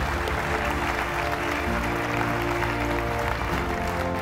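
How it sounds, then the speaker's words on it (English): An audience applauds at a comedy show as someone joins the comedian on stage, a dense steady clapping from many hands held at an even level throughout. "you're going to get a massive round of applause as you do"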